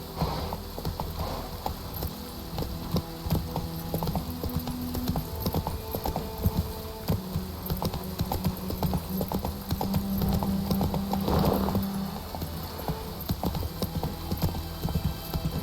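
Geralt's horse Roach gallops in The Witcher 3, hooves clip-clopping in a steady, continuous rhythm throughout, close and fairly loud over a dense game soundscape of ambient tones and music.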